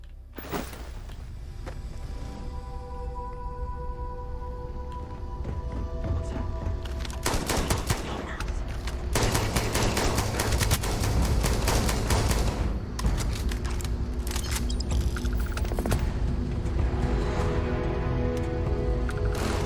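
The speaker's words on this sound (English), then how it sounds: "He had a Gatling gun" Gatling gun fire in Starfield, a sustained rapid rattle of shots that grows louder and denser midway, close and steady with little talk.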